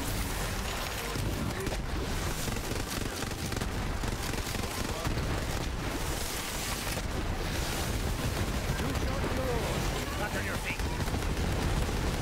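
Dense gunfire and explosions from the co-op shooter game Borderlands 3 form a steady, loud wall of combat noise with no breaks, and voices can be heard talking beneath it.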